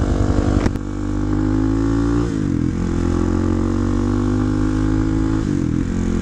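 A 2009 Kawasaki KLX250SF dual-sport motorcycle's single-cylinder engine runs steadily and loud, close by, with throttle blips and slight pitch rises as the bike pulls away; no talking.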